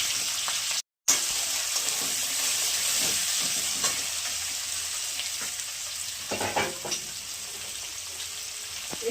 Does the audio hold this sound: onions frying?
yes